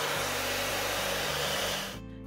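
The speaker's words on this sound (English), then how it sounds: "you can always use a hairdryer on low settings" A hair dryer on a low setting blows steadily up close, drying a glue photo transfer, a loud even whoosh with a low hum that softens slightly just before the end.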